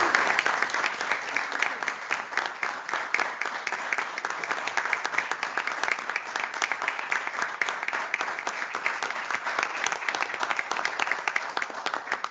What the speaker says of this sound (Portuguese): eu ia pedir um grande aplauso.